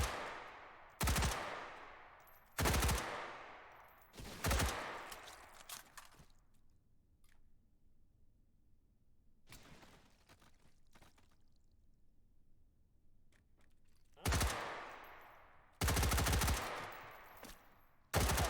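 Video game target shooting: sharp, loud gunshots ring out in separate bursts with echoing decay, some single and some doubled, spaced apart by quiet stretches.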